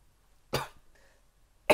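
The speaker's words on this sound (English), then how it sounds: "Sorry, I have a cough." Two short, sharp coughs, close and isolated, separated by a quiet pause with faint background hiss.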